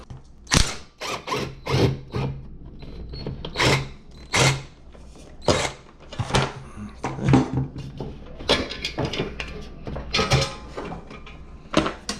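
Ratchet wrench works a nut on a Honda XR70 pit bike, with repeated close clicking ratchet bursts in uneven strokes and short pauses between them.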